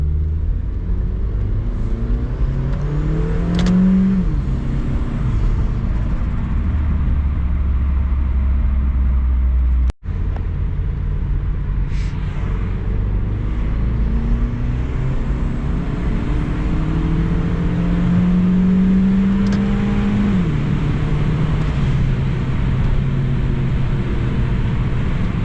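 A turbocharged Honda Civic with an R18 engine revs up and accelerates hard twice, pitch climbing through the gears, loud and close, with road and wind noise between pulls.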